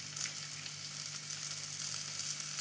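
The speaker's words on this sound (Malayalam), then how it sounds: "അപ്പം എല്ലാം ഒന്ന് വഴറ്റിയെടുക്കാം." Ginger, garlic and green chili sauté in hot oil in a pan, giving a brief, steady close sizzle with crackling pops and no voices.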